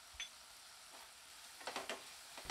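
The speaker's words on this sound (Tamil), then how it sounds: "எல்லாத்தையும் ஒன்று சேர நல்லா வதக்கி விட்டாச்சு" Soft stirring and sizzling of vegetables and spices being sautéed in a pan, with a few scraping strokes near the end and no one talking.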